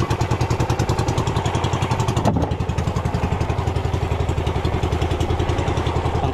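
An engine idles close by with a steady, fast, even chugging pulse and a slight clatter, running alone without talk.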